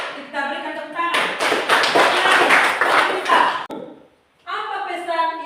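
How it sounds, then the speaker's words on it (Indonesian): Students in a classroom clap together for about two and a half seconds, a loud burst of hands between stretches of nearby voices talking before and after. "Kita berikan tepuk tangan."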